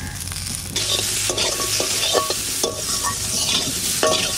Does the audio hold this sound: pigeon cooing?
no